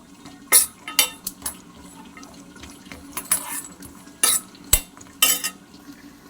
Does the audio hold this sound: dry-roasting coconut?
yes